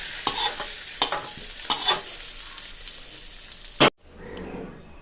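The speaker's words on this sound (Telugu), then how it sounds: "ఇప్పుడు ఈ పోపుని మనం ముందుగా చేసి పెట్టుకున్న పచ్చడిలో వేసుకోండి" A hot mustard-seed tempering crackles and sputters in a pan with light stirring scrapes, then gets poured into a brinjal and tomato chutney, ending in a sharp loud hiss that fades to a soft sizzle.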